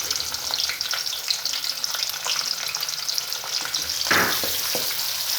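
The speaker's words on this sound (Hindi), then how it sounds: "इसमें प्याज डालते हैं" Onions tipped into hot oil for whole masoor dal, frying with a loud, bright sizzle, stirring clatter and a burst of spoon-on-pot knocks near the end, close and busy.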